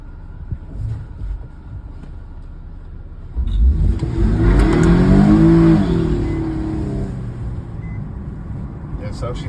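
A 2013 Nissan Skyline 370GT fitted with a performance air intake revs up loudly nearby, swelling into a throaty surge before easing back to idle, with background speech around it.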